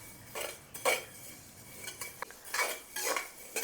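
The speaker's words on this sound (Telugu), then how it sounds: "జీలకర్రను కూడా దోరగా వేపుకోవాలి" Cumin seeds being dry roasted in a pan for Andhra masala karam, heard as intermittent scraping and clinking of a utensil against the pan in short bursts, fairly close, with no talking.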